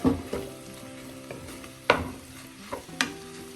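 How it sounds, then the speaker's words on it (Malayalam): Vegetables with soy sauce sautéing in a pan over a low flame, a steady gentle sizzle broken by several sharp scrapes and clinks of a spoon stirring, close and without talk. "ചെറിയ സിമ്മിലൊന്ന് വഴറ്റണം. വെജിറ്റബിൾ എല്ലാം ഒന്ന് വഴലട്ടെ."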